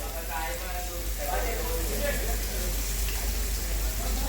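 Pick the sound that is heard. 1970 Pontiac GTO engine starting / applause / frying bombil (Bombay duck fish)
frying bombil (Bombay duck fish)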